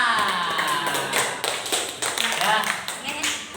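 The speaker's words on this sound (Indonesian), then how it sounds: "Ya, tepuk tangan." Applause in a classroom: many hands clapping in a dense, uneven patter for a few seconds, with children's and a teacher's voices talking over it.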